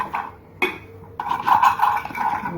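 Chicken tajine ingredients with vegetables being stirred together in a dish: scraping, clinking utensil-on-dish sounds and soft mixing, close and moderately quiet, with brief pauses between strokes.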